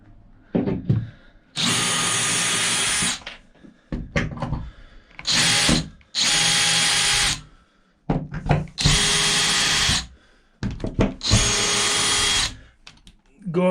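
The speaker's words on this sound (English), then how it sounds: "I might just go and get the drill, take the centre board here out" A power drill whirs in repeated loud bursts of a few seconds each while removing screws from a board, separated by brief clunks and handling noises between runs.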